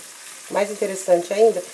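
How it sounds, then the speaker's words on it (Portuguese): Garlic chicken frying slowly in a covered pan, giving a soft, close crackle in short bursts over about a second, with no voices. "Ela tá fritando devagarzinho."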